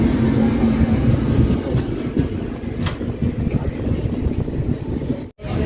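An unreserved passenger train rounds a curve on the run to Mangaluru, a steady loud rumble and rattle of carriages with faint clickety-clack throughout, briefly cut near the end.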